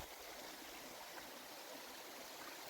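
Mountain stream water flows steadily beneath a small village bridge in the Uttarakhand hills, a continuous broadband rush close to the listener with no voices.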